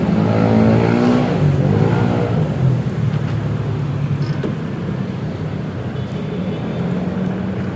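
A Honda ADV 160 scooter runs close by, starting with a louder burst and then settling into a steady, even idle hum that continues to the end.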